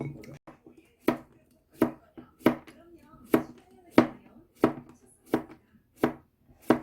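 Knife slicing a cucumber into thin rounds on a cutting board, about ten crisp, evenly spaced chops that ring out close and clear, with no talk over them.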